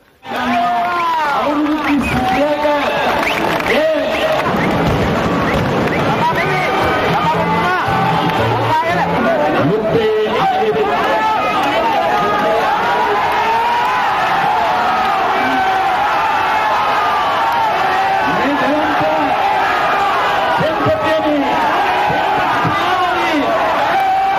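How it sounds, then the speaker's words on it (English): A large crowd gathered in Kurunegala to welcome Sarath Fonseca on his arrival, a loud, continuous roar of shouting, chanting and cheering voices with scattered whoops rising over the steady babble throughout. "A large crowd had gathered to welcome Sarath Fonseca upon his arrival in Kurunegala"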